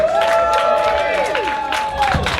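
Live comedy show audience bursting into loud cheering, whoops and applause for a comedian taking the stage, a dense crowd roar that stays strong throughout with a few shouts on top.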